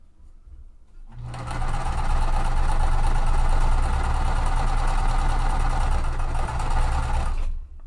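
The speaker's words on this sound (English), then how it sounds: "I'm sewing both at once" A sewing machine stitches quilt pieces, starting after a quiet second and running in one loud, continuous whirring burst for about six seconds before stopping abruptly.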